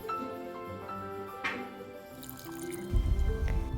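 Sugar mixture simmers in a pot for panna cotta, giving soft bubbling and small popping drips over a low, uneven hum, with a louder rumble near the end.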